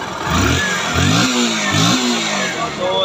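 A Bajaj Pulsar NS 160 FI motorcycle engine, just repaired after a wiring fault, revs up in three or four rising bursts between steady idling, loud and close.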